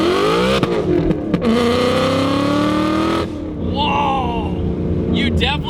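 A supercharged 800 hp Mustang GT with an extremely loud exhaust revs hard to high RPM, its rising engine note sustained and close, then drops off after a shift as a man exclaims over the dying roar.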